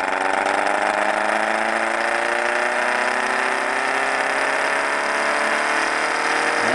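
Small ORBO-style electric motor run up to 19 volts, a steady, loud, close whine with rising harmonic tones as it spins up, holding constant throughout with no talk.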